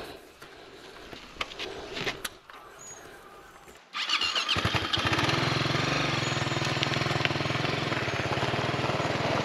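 Quiet rustling and clicks, then a motorcycle engine starts and settles into a loud, steady rattling idle close by for several seconds.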